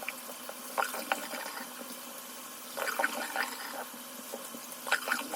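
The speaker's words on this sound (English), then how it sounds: "And I'll just run it under the water and squeeze it just to get the excess off." A towel is rinsed under running water and squeezed out at a sink during a skincare routine, bursts of splashing and trickling water rising and falling between quieter stretches, close and fairly soft.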